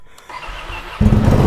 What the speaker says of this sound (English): Alright, let's do a cold start.